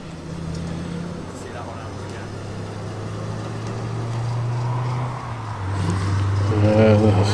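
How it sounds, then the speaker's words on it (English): A Ford 100E Prefect with its little 1172 side valve engine burbles steadily at close range, a low even idle that swells slightly near the end, with people talking over it. "The distinctive burble of the little 1172 side valve."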